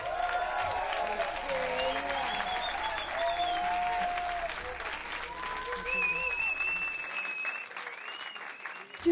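A live concert audience applauds steadily for a singer about to perform, a dense wash of clapping running throughout at close-to-moderate distance, with a voice speaking over it and a few whistles near the end.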